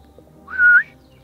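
A bird with a black-and-white spotted breast, red back and long bill gives a single short rising whistled call, clear and moderately near against a quiet background.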